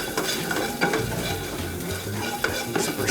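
Shallots sizzle in hot oil while a utensil stirs and scrapes the pan, a close, busy crackle with occasional clinks.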